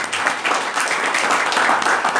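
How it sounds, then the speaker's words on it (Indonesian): An audience at a seminar applauds the mentors, a brief burst of dense, steady clapping from many hands filling the room at close range. "Aplaus buat mentor-mentornya Bapak Ibu."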